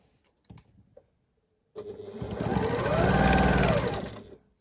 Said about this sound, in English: we're making sure we're putting a 1/4 inch seam down the edge.